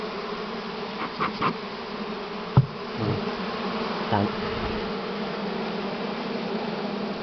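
Honey bees buzz around an opened hive during nest expansion, a dense steady hum close by, broken by a few knocks of wooden frames and boards.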